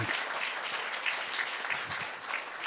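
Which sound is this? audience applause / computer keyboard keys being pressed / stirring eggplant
audience applause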